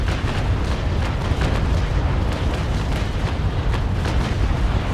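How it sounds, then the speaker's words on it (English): Heavy cannon broadside from a sailing warship in the naval combat game Naval Action, a dense, continuous rumble of booming shots rolling together for several seconds, loud and close. "this was rather devastating broadside that has spelled his end"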